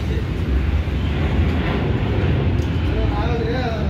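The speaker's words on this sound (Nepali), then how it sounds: "अहिले चाहिँ प्लेन गइरहेछ माथिबाट चाहिँ" A plane passes overhead at a busy fair in Kathmandu, a broad steady roar spread across the clip beneath crowd noise and nearby talk.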